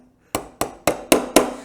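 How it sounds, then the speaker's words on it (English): A hammer taps a roll pin into a Hi Point JCP .40 S&W pistol: five sharp, close metallic strikes at a steady, quick rhythm, with no other sound. "I'm gonna get that started with a little tap of my hammer."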